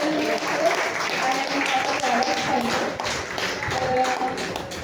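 An audience at an anniversary event claps together in a steady, moderately loud round of applause, with a voice speaking over the clapping.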